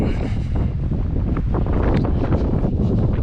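Strong wind buffets the microphone on the Atlantic coast during a solo motorcycle tour of the Wild Atlantic Way, a loud continuous roar and rumble with no talking.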